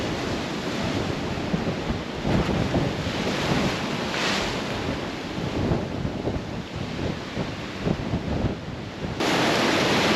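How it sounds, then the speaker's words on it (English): Ocean surf pounds steadily along the Outer Banks shore, a dense continuous roar of breaking waves with heavy wind buffeting the microphone throughout. "The waves here are incredible."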